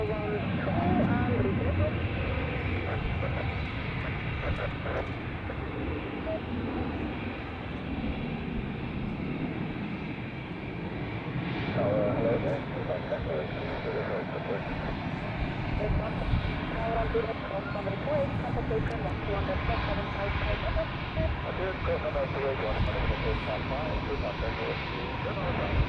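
An Air Bulgaria Embraer 190 jet airliner at Zurich Airport produces a sustained whining engine roar over a long stretch, fairly distant and steady, with talk faintly mixed in.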